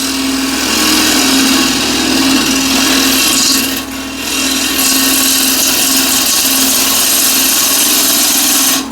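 Woodturning lathe spinning with a steady hum while a gouge rides the bevel in a push cut, a continuous close whirring scrape with a brief dip partway through.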